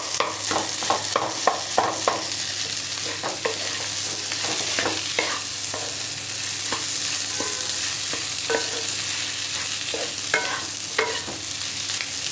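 A mashed potato curry with turmeric is stirred in a frying pan, the spoon scraping in repeated bursts over a steady low sizzle, up close and with no voices.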